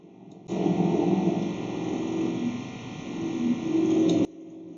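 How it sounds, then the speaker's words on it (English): Indoor air conditioner running with a steady broadband hum and whir, holding at a fairly even level for about four seconds before cutting out abruptly. "That's probably the aircon that is making a bit of a noise"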